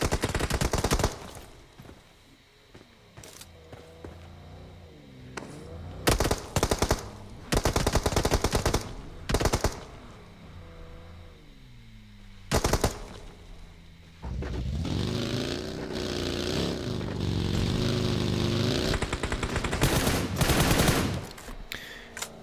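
Bursts of automatic gunfire from PUBG Mobile crackle in rapid rattling volleys, some long and sustained, others short, over a rumbling engine whine of a vehicle in the match, loud and up close.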